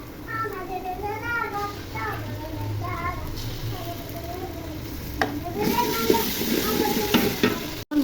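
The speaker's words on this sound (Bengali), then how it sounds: "এখন আদা রসুন দিয়ে ভেজে নিব" Ginger and garlic fry in hot oil for khichuri, a steady close sizzle with crackling pops that swells louder toward the end, while a voice murmurs faintly in the background.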